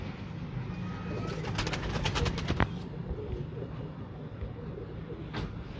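Soft coos from pigeons at a rooftop breeding loft blend with steady outdoor noise, and a rapid burst of clicks cuts through partway.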